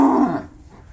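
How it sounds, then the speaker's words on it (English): A cow that has just given birth to her first calf on a farm lets out a single loud, low bellow that drops in pitch and fades within a second, with no other sound around it. "They don't all bellow like this."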